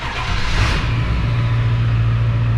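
A 2002 Ford 7.3 Powerstroke diesel fitted with a PHP Hydra tuner runs steadily and loudly up close, with a brief rev swelling in the first second before settling into a strong, even idle drone.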